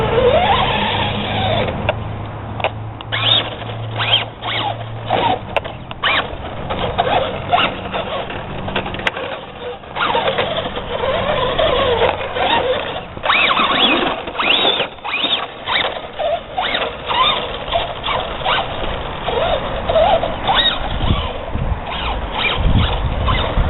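Traxxas BackSlash RC truggy with a loose slipper clutch driving off-road outdoors, its small motor whirring and gravel and dirt crunching continuously at close range, steady and fairly loud throughout.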